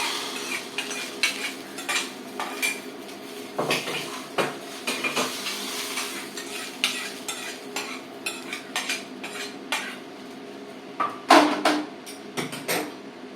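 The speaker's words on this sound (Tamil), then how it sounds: "இப்போ நமக்கு வந்து இங்கே கடுகு வெடிக்கிறது, நெய்யில் கடுகு தாளிக்கிறோம்." Mustard seeds pop and splutter in hot fat, a string of sharp crackles at irregular intervals over a steady sizzle.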